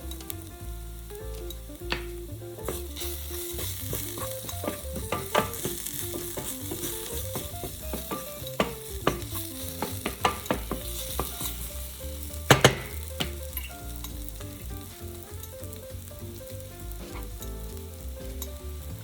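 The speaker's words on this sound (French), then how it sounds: "On remue, on laisse cuire à peu près 2 minutes." Ground coriander and cumin frying in a pan for a coral lentil dish, a steady close sizzle with repeated stirring scrapes and occasional sharper utensil taps.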